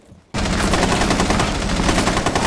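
Sudden burst of rapid automatic gunfire in the video game Rainbow Six Siege, a loud, sustained close-range stream of shots starting abruptly after a brief quiet moment.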